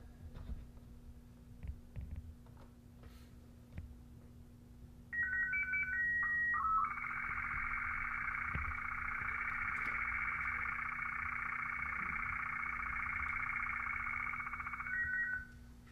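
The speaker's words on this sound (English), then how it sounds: "What you're hearing is the high and low tones for the SSTV signal." SSTV slow-scan TV image signal from a Commodore 64: a brief stepping run of tones opens a long, steady warbling tone burst that runs for about ten seconds over a low hum, then cuts off.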